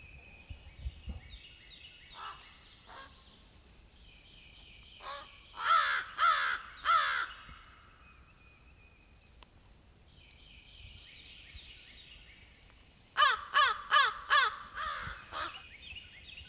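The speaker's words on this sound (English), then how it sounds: "You got some of the earliest crows." Crows caw in the early dawn along a public-land trail during a turkey hunting trip, two bursts of three to five harsh calls at moderate distance, with fainter distant calls and quiet outdoor ambience between.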